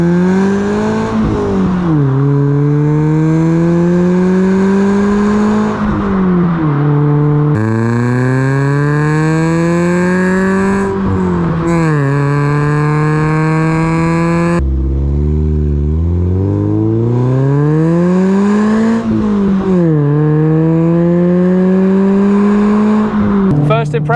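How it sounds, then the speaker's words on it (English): A car with a modified exhaust fitted with a middle silencer drives on the road, its engine rising steadily in pitch through repeated acceleration pulls with brief drops at each gear change, loud and continuous. "Now it's time to get it on the road and see how this car feels with hopefully a slightly quieter exhaust system."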